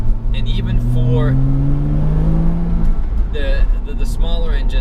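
A 2008 Porsche Cayman with the base 2.7 liter engine and stock exhaust drones steadily from inside the cabin while driving, its pitch slowly rising, as a person talks over it.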